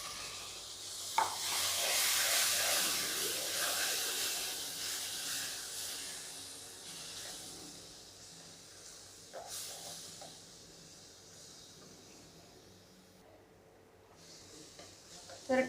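Tomato puree and spices fry in oil for pav bhaji with a soft hissing sizzle that swells early and then fades to a faint simmer, with occasional light clinks of stirring.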